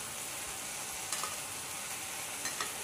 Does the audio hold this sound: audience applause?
no